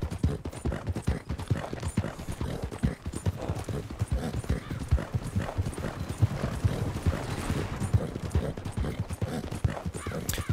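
Horse hooves clip-clopping steadily in the video game Red Dead Redemption 2, a fast, even gallop rhythm that stays close and loud throughout, with no talk.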